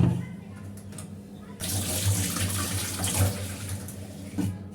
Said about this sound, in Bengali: মাছগুলো এখন ধুয়ে নিব।